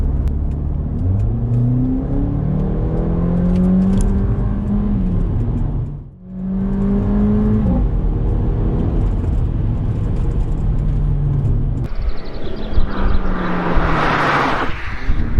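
A Mercedes CLA 45 AMG Shooting Brake in sport mode with its exhaust valve open rumbles and revs up repeatedly, loud throaty exhaust, pitch climbing through gears, briefly dropping off before surging again, close and powerful.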